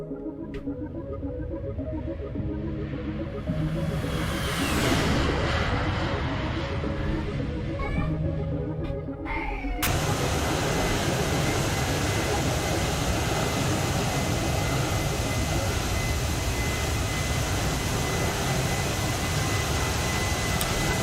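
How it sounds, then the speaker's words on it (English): Airliner flyby in the X-Plane 12 flight simulator, a Toliss A319 roaring past with a rising, sweeping jet whine that swells to a loud, sustained broadband rush of engine noise. "I love that flyby sound"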